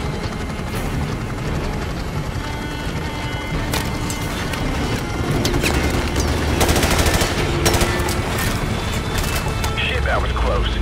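Sustained automatic gunfire rattles through a combat mission in Call of Duty: Modern Warfare Remastered, with bursts thickening into a dense fusillade midway, while radio chatter and voices run underneath.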